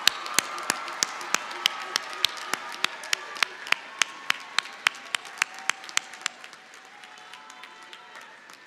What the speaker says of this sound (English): I invite you to turn around and give a round of applause to your family